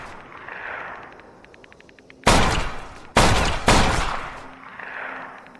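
Video game gunfire: three loud, sharp shots, the first alone and the next two close together, each with a booming decay, set against a quieter background of low ambient game sound.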